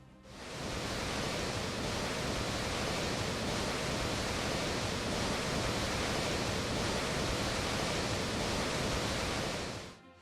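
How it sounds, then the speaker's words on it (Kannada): Broad, steady roar of a waterfall rushing with heavy flow during heavy monsoon rain in Karnataka, a dense unbroken wash of water noise with no other sounds. "ದುಮ್ಮಿಕ್ಕುತ್ತಿರುವ ಚಲರಾಶಿ ಮೈಮನವನ್ನ ತಣ್ಣಗೆ ಮಾಡುವಂತೆ ಹರಿಯುತ್ತಿದೆ"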